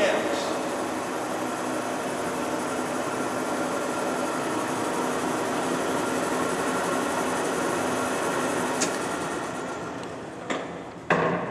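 A Century heavy-duty sliding gap bed lathe runs at 70 RPM, giving a steady mechanical whir and hum at close range, with a few faint clicks near the end.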